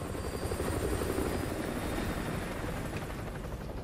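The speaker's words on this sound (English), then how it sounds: "Enemy helo patrolling the perimeter." An enemy helicopter patrols overhead in the Modern War game, a loud continuous rotor thrum and whine that fills the whole moment and fades slightly toward the end.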